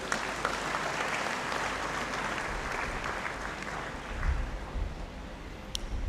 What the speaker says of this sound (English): I believe he deserves another round of applause.